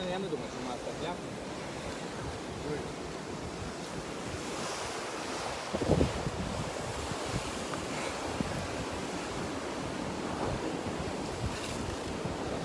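Ocean waves wash and surge steadily close by, a broad continuous roar mixed with gusty wind buffeting the microphone.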